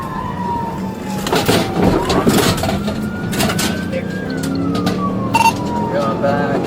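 A police car siren wails during a pursuit, its pitch sweeping slowly up and down over loud road and engine noise, with a voice talking over part of it.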